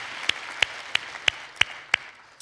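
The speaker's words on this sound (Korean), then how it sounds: "좋은 날씨 허락해 주신 하나님께 영광의 박수 저희가 올려드리도록 하겠습니다" Six sharp, evenly spaced claps ring out at a steady beat inside a church after the congregation is called to give glory for good weather, each one crisp and close with quiet between.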